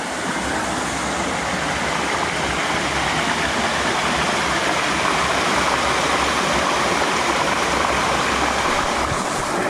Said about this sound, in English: We're back at the waterfall